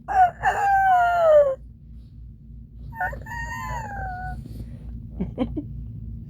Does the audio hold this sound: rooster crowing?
yes